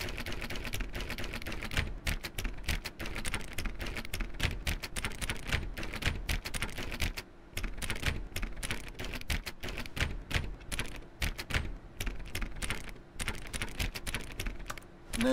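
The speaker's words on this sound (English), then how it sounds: "Perhaps 50 clicks will do it. Yes, almost certainly 50 clicks." Rapid, relentless clicking of an on-screen button in The Stanley Parable video game, dozens of sharp keyboard-like taps in a dense, slightly uneven rhythm with only a brief pause.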